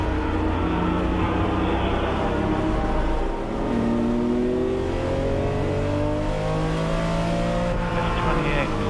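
Vintage Porsche race cars, including a 1975 Porsche 3.0 Carrera RSR, scream past at high speed during a 2017 Reunion race, loud overlapping engine notes rising and falling in pitch as several cars sweep by in a continuous roar.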